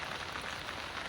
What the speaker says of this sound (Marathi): आता पण पाऊस येतोय आडोशाला बसलोय